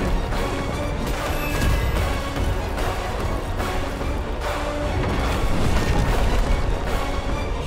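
Explosions in the video game Bramble: The Mountain King, a dense, continuous run of booming crashes and heavy impacts that stays loud and rumbling throughout, with no voices over it.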